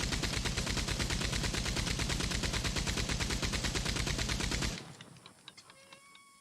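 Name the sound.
Gatling gun firing in the video game Red Dead Redemption 2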